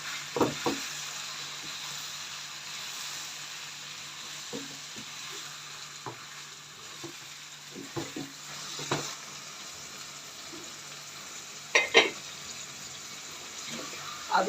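Keema with green chillies frying in a pan while being stirred and mixed, a steady low sizzle with scattered soft scraping and clinking strokes, moderately close and without talk.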